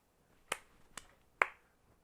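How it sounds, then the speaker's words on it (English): Three sharp, separate hand claps ring out in a quiet room, spaced irregularly about half a second apart. Each is a crisp, close smack that fades quickly. "Why don't you guys just clap for us?"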